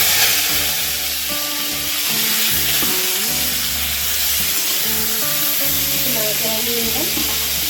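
Boiled drumstick pieces and potato dropped into hot oil with frying cumin for a Bengali sojne data chorchori, giving a loud, steady sizzle with stirring scrapes throughout.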